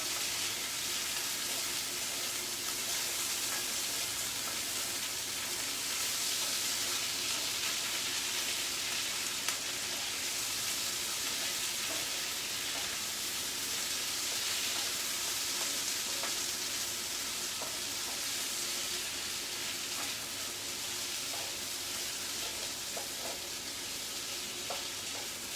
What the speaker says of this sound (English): let's give our potatoes a little stir